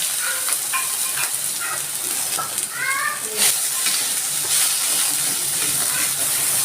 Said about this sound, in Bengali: সেই পেঁয়াজ দুটো আমি একটু ভেজে নিচ্ছি